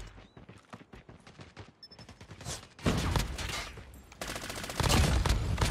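Rapid bursts of M13 gunfire in Call of Duty Mobile, first crisp single shots, then dense sustained automatic fire growing louder and heavier toward the end.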